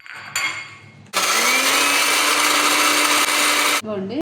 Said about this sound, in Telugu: ధనియాలు జీలకర్ర ఒట్టిమిరకాయి మెంతి పొడి కొంచెం వేయించుకొని ఇట్లా మిక్సీకి వేసి